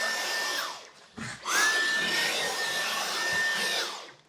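A worn Dyson vacuum cleaner whines loudly and steadily, dipping briefly as it stalls or is blocked before returning to its full high-pitched running tone, then tailing off at the end.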